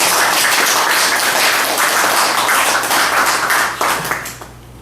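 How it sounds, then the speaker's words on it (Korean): Lecture hall audience giving a round of thankful applause: close, loud, dense clapping for about four seconds, then thinning out and stopping. "하영아 부장님을 위한 두 번째 큰 감사의 박수 부탁드립니다"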